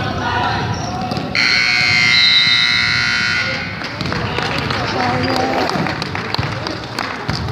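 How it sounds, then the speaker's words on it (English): A loud, sustained electronic buzzer sounds for a couple of seconds over a busy gym during a youth basketball game, with basketballs bouncing, sneakers moving and crowd noise around it. "Too many buzzers. Got a game going on behind us."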